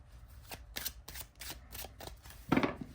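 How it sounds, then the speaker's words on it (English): A deck of glossy, gold-gilded Tree Keepers oracle cards is shuffled by hand in several quick riffling bursts, close and crisp, with soft slaps of the cards between passes. "let's see how this shuffles. It is glossy"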